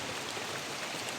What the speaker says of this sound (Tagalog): Ito na naman, umuulan na naman tol.